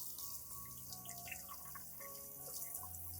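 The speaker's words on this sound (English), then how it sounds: "Next, I rinse the plant under clean water with gentle pressure." A plant is rinsed under clean running water at gentle pressure, giving a soft, continuous splashing and dripping with small liquid plinks, faint and close, with no voices.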